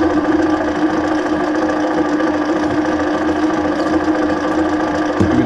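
Chinese mini lathe cutting metal with WD-40 as lubricant, a steady mechanical whir and hum running loud and continuous throughout, with no talk over it.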